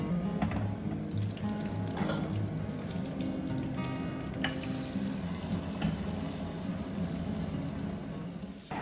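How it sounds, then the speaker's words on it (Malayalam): Mustard seeds, dried chillies and curry leaves sizzle in hot coconut oil for a Kerala sadya tempering, a steady crackling hiss with small pops throughout, close and unbroken. "കുറച്ച് വെളിച്ചെണ്ണ ചൂടായിട്ട് അതിലേക്ക് കടുകും വറ്റൽമുളകും വേപ്പിലയും കൂടി ഇട്ടുകൊടുത്തിട്ട്"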